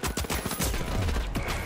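Rapid pistol gunfire in a video game, a quick burst of sharp, loud shots fired in close succession over about a second and a half, with no talking.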